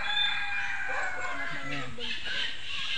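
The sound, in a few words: chickens at a wildlife center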